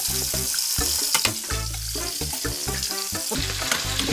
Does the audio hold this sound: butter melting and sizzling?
yes